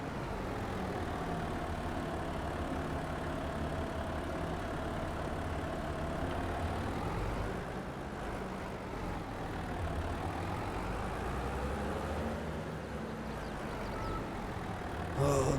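A tractor engine idling in a farming simulator on a winter map, a steady low rumble that holds at moderate level throughout with slight waves in pitch.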